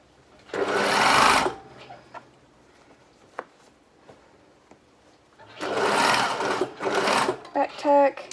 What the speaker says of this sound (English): So just sewing right on the edge.